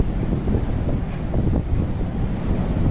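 Very big ocean waves rolling past a large ship, a loud continuous wash of surf with heavy wind buffeting the microphone, heard alone without talk.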